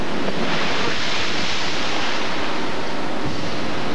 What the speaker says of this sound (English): Once waves begin to surge across the deck, even large boats no longer provide protection.